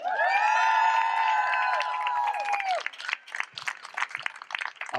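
Cheering and clapping from a crowd at a political rally, opening with sustained tonal whoops and shouts that give way to scattered hand applause and voices, loud and close.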